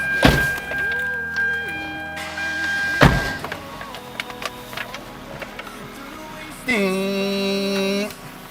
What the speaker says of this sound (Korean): 전동 미러 작동이 되는지 한번 제가 보여드리도록 하겠습니다